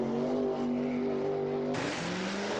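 The Bigfoot monster truck's big engine drones in a steady, loud rev that shifts pitch sharply near the end, heard alone while the truck runs through a mud bog.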